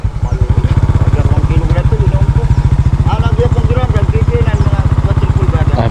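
A motorcycle engine runs steadily and close by, its rapid mid-pitched pulsing continuous throughout, with people talking over it.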